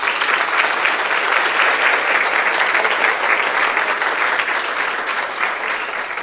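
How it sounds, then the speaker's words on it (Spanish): An audience at a Rotary Club district conference event gives a sustained round of applause, loud and continuous, with a dense crowd of clapping hands throughout. "Aplaudámosla, Blanquita."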